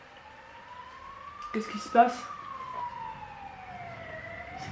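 A police siren wails outside, its rising and falling tone fairly distant and faint, while people talk over it.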